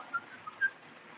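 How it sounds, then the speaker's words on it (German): Faint short whistled notes from a man, two brief tones over quiet street-like background, distant and soft. "da pfeift doch einer"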